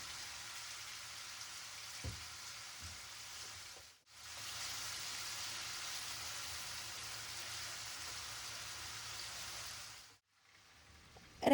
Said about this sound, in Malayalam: അപ്പോൾ ഒരു പാനിൽ ചിക്കനും ഫ്രൈ ആയിക്കൊണ്ടിരിക്കുന്നുണ്ട്.